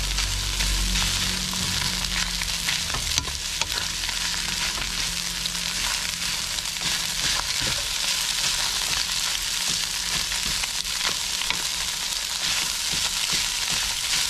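Rice frying in a pan for fried rice gives a loud, steady, close sizzle with intermittent stirring scrapes throughout, no talking.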